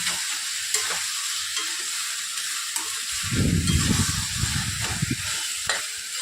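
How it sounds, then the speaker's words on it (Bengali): Squash stir-fried in a pan over high gas heat until dry, with a steady close sizzle and scraping stir strokes that swell louder midway; no talking. "মাঝামাঝি পর্যায়ে চলে এসছে খানিকটা আরও খানিকটা নাড়াচাড়া করে একদম শুকনো শুকনো করে"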